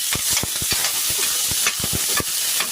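Pork pieces searing in a small amount of oil in a pan for sauteed mung beans, a steady close sizzle broken by sharp bursts of popping and crackling, with no talk.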